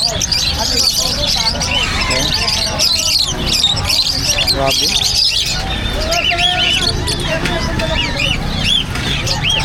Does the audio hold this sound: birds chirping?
yes